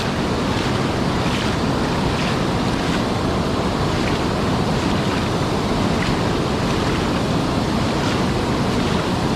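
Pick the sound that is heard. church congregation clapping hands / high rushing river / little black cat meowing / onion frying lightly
high rushing river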